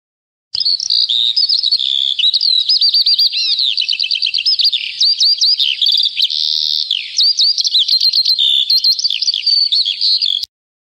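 A songbird sings a long, continuous spring melody of bubbling trills, warbles and chirps, loud and close, alone against a silent background.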